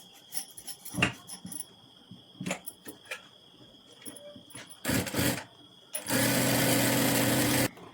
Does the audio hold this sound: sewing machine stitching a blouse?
yes